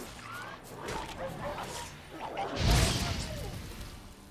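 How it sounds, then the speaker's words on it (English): A dog barks, yips and whimpers in The Witcher 3 in short bursts, ending with a louder crash-like scuffle. Game sounds overlap it. "What is that a dog?"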